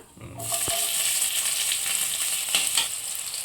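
Chopped onion and five-spice (panch phoron) frying in a hot wok: a close, steady, loud sizzle with brief stirring clatters, no talking.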